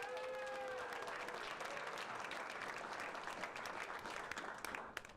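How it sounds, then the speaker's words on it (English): A crowd at an evening founders' event applauds a speaker, a steady dense patter of clapping that holds at an even level before tapering off right at the close, fairly soft and a little distant. "so let's give him a round of applause."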